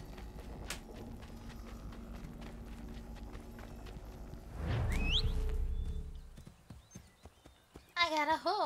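In the video game Assassin's Creed 3, a horse's hooves clip-clop in a steady rhythm, swelling louder as it breaks into a run, then easing, followed by a brief whinny at the end.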